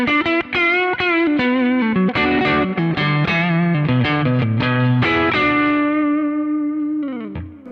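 An electric guitar plays through a Kemper Sparkle profile on its P90 neck pickup, giving a fast run of bright, ringing picked notes that ends in a held, decaying note, loud and alone.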